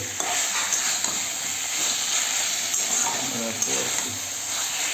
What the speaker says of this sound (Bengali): একটু লাল লাল ভাব হয়ে আসলে আলু পটলটা দিয়ে দেবো, দিয়ে একটুখানি ভাজবো।